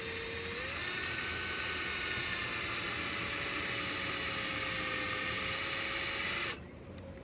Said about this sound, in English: you're just going to drill a hole straight through